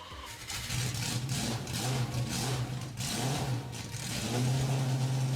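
A Jaguar HCR 15 engine in the video game Driving Empire, revving steadily with a loud continuous mid-pitched drone that rises at the end, with no voices over it.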